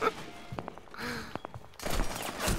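Gunfire in the video game Rainbow Six Siege: several sharp, brief shots crack out in quick succession over a busy in-game background, followed by a louder burst of noisy action.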